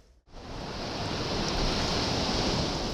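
Ocean waves wash onto a sandy beach with white foam. The surf makes a steady, full roar that swells in after a brief dip at the start and then holds continuous. No voices are heard.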